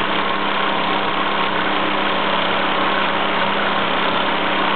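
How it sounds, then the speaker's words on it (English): Two English toy steam engines, a Luton Bowman PW203 and a Plane L5, run in steam with a steady, continuous mechanical hum and hiss, holding an even, fairly loud level throughout with no voices. "two English toy steam classics, the Luton Bowman PW203 and the plain products L5"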